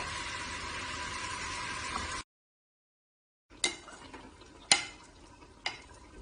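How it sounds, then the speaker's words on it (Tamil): Chicken pieces are added to hot oil for Dindigul Thalappakatti seeraga samba chicken biryani: a steady broadband sizzle for about two seconds, then a gap of silence, then softer frying broken by a few sharp utensil clacks. "இப்போ நம்ம வந்து இந்த ஆயில்ல சிக்கன் வந்து ஆட் பண்ணிடலாம்."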